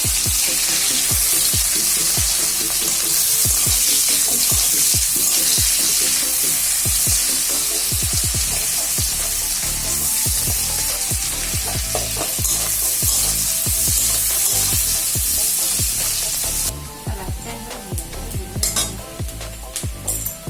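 Cumin and onions fry in hot oil in a loud, continuous sizzle with close spoon scrapes and clinks against the pan, the sizzle easing slightly near the end.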